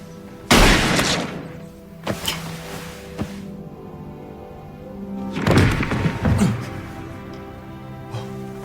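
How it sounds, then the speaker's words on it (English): A gunshot goes off in a tense domestic drama scene, one sharp loud blast with a broad booming tail, followed by a couple of softer thuds and a later burst of shuffling, scraping commotion; no one speaks. "I didn't mean for the gun to go off."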